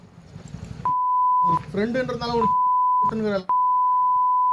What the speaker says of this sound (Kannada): ಒಂದೊಂದು ಪದಗಳು ಕೂಡ ಕೇಳಕ್ಕಾಗಲ್ಲ, ಬರೀ ಬೀಪ್ ಸೌಂಡ್ ಹಾಕಬೇಕು